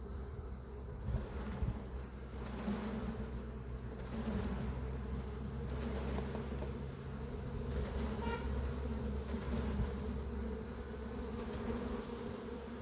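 Honeybees buzz steadily around a hive while an empty feeder is being cleared out, a dense continuous drone of many wings close to the microphone, with a light wind rush underneath.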